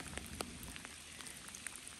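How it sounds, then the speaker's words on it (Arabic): Heavy rain falling beside a large river in Turkey during a fishing trip, a dense steady hiss of drops with scattered sharper taps on nearby surfaces, close and continuous, with no voices. "مطر فضيح ما جاي يوقف"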